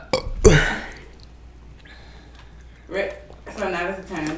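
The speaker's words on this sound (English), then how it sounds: "So now this is turning into a burping challenge." Loud burps during a no-burping challenge, one strong belch up front followed by fainter throaty bursts, with people talking around them.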